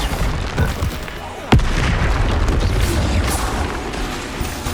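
A Bombarda blasting spell goes off in the Hogwarts Legacy video game, a sharp booming explosion that bursts out once, loud and close, then trails into rumbling, busy game effects.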